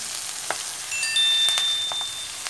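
Chopped ponnaganti greens sizzle in a hot pan after turmeric, a soft steady fry with a few sharper crackles and utensil taps, close and without voices.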